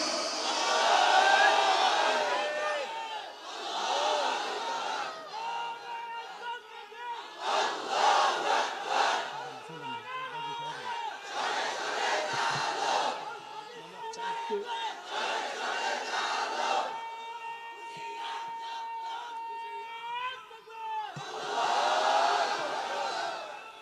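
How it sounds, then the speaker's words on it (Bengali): A large crowd at a Bangla waz sermon shouts takbir in repeated loud bursts, each roar of many voices rising and falling with short gaps between. "একবার তাকবীর দাও, আল্লাহ শুনুক।"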